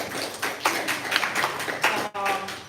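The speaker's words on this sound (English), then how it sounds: "So let's have a round of applause for Veronica." An audience at a book launch claps together in a brief round of applause, with sharp bursts of clapping that swell and dip over a few seconds, moderately loud in the room.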